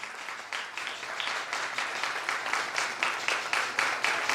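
Sustained applause from an audience at a Resurrection Day prize distribution for children, steady dense clapping that swells slightly toward the end.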